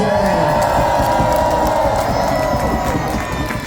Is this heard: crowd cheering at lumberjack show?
yes